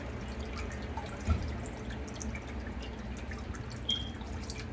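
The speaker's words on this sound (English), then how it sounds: "Go ahead and pour that mango nectar in there." Mango nectar pouring into a cast iron skillet with light drips and splashes, a soft steady trickle close by and fairly quiet.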